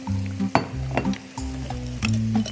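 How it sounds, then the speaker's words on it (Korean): Young perilla leaf shoots are stirred in a pot of salted water at a hard, rolling boil, giving a close, steady bubbling and sizzle-like hiss with soft stirring clinks and a low hum throughout. "펄펄 끓는 물, 센 물에 물이 끓으면 소금을 좀 넣고"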